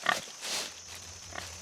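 A wild boar gives short, faint grunts in a film scene, one rough burst at the start and another near the end over a low background hum.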